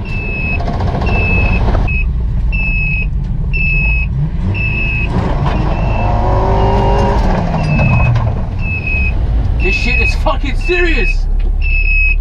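Honda CRX with an H22 engine and stock exhaust accelerating hard, a loud engine roar rising steadily under excited talk, with repeated high electronic beeps throughout.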